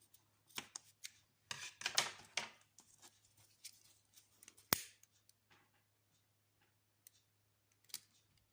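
Scissors snip through macrame cord while trimming the ends of a bracelet, a run of crisp close cuts and small rustles followed by a few isolated snips, with no voices.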